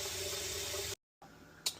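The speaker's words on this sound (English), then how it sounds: "let's get it filled up with water to about this far" A large pot filling from a kitchen tap for head cheese: a steady broadband rush of running water, nearby and constant, then a brief cutoff and quieter room tone with a short splash at the end.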